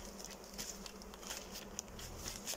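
Honey bees hum steadily around an open hive frame in spring, a faint continuous buzz with small ticks and patters of insects nearby, no voices.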